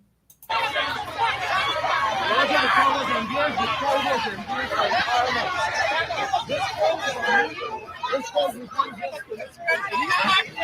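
A crowd in Guyana chattering: dense, continuous babble of many overlapping voices at close to mid distance, steady throughout with occasional louder exclamations and laughter.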